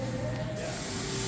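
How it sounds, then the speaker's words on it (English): Spray gun applying paint to a 2003 Wanderlodge LX bus, a steady close hiss that grows louder and brighter halfway through. "do a final wipe down here and start spraying"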